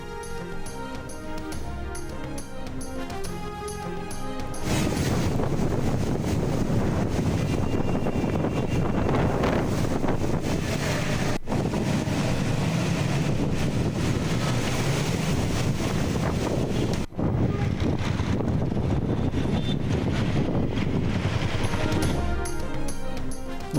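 Strong storm winds sweep across Bahawalpur, Pakistan, in a loud, steady roar that buffets the microphone and continues for about twenty seconds after a short musical opening.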